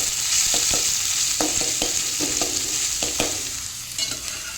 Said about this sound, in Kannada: ಹಾಗೆ ಆ ಎಣ್ಣೆಗೆ ಒಂದು ನೀರುಳ್ಳಿಯನ್ನು ಕಟ್ ಮಾಡಿ ತೊಗೊಂಡಿದ್ದೆ, ಅದನ್ನು ಹಾಕ್ತೇನೆ